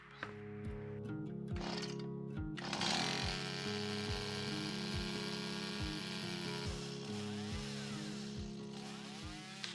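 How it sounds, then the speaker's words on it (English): A chainsaw engine runs steadily by a cabin in the woods, a low buzzing drone with a regular pulsing throb and occasional revving surges, fairly quiet and without voices. "get the saw running again"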